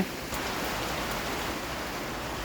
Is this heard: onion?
no